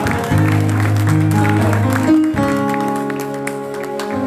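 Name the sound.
congregation applauding and cheering for Jesus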